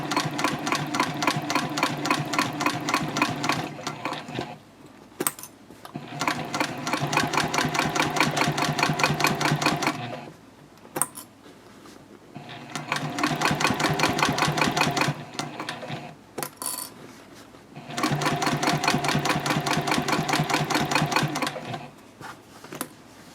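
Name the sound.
sewing machine stitching a Swoon Betty Bowler bag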